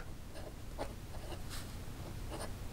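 A Visconti Asia Bamboo fountain pen writes initials on paper in reverse, with faint scratchy nib strokes coming in short separate bursts over a steady low background hum.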